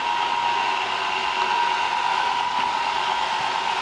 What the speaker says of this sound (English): This is the first time I ran the Roomba in here.